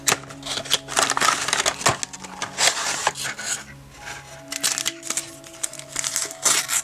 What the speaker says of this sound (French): on va passer au pack suivant. On va déballer celui-là du coup